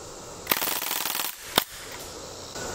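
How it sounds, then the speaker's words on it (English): A BB gun fires on full auto: a rapid, close burst of shots lasting under a second, then a single sharp report shortly after, against quiet background. "Let me show you why I like this BB gun though."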